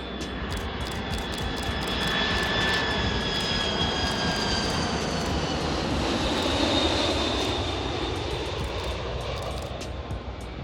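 Loud jet engine roar swells and sustains with a high whining tone sweeping across, a large airliner passing close by at Sacramento airport, no talking.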